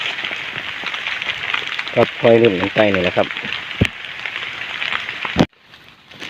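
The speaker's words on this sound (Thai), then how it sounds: "ฝนตกครับ" Steady rain falls outdoors in a forest while mushrooms are gathered, a dense hiss of drops close by and loud throughout until it suddenly drops off near the end; someone speaks briefly over it.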